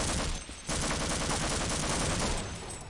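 Rapid gunfire in Half-Life aimed at landmines, a dense, continuous fusillade of loud close shots with a brief gap early on before the burst resumes.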